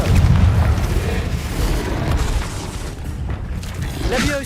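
Fiery blasting-spell explosion in the video game Hogwarts Legacy: a loud, booming burst with a rumbling low end that lingers under dense battle noise and other effects, with a sharper crackle near the end.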